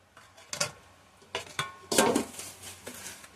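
Tal kadam pitha being lifted out of a cooking pot with a utensil, making several sharp metallic clinks and scrapes in separate bursts with short quiet gaps between them.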